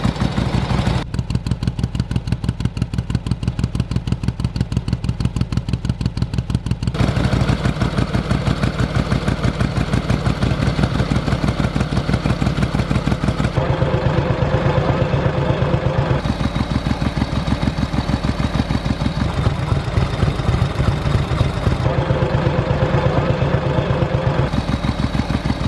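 A 1951 Harley-Davidson Panhead motorcycle engine idles low and steady nearby, a continuous loud rhythmic chug with slight shifts in tone over about 25 seconds.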